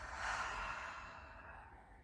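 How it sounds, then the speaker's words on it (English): A slow, deep inhaled breath taken during a calming exercise, soft and close, swelling then fading over a couple of seconds with no talking. "let's take a quick deep breath"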